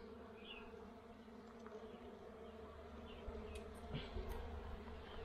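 A steady, close honeybee buzz hums throughout, with a few brief louder passes near the end.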